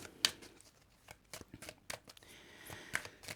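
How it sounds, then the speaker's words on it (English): Tarot cards are shuffled in quick, soft riffles and taps, a scattered run of light papery flicks close by and fairly quiet. "I'm just going to give them a good shuffle"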